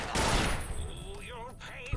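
A loud shotgun blast from Fallout New Vegas bursts at the start, then fades into a tail of warbling, pitch-sweeping game sounds.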